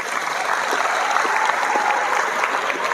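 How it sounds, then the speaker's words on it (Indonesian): An audience at a school Isra' Mi'raj religious gathering in Bandar Lampung claps together in a sustained, even wash of applause, moderately loud and unbroken, with no voices rising above it. "Coba tepuk tangan."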